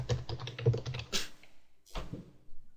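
Typing on a Spanish-layout computer keyboard: a quick run of close, crisp key taps, then a pause and a few separate louder key presses.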